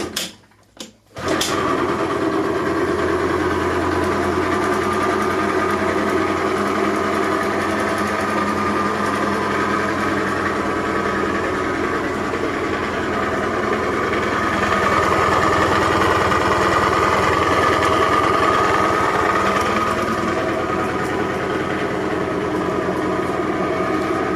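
A Suzuki Let's 2 scooter with a dead battery catches after a brief rough start and settles into a steady, high-pitched buzzing idle that runs on, close and loud, with no talking.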